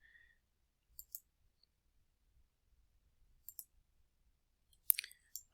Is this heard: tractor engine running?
no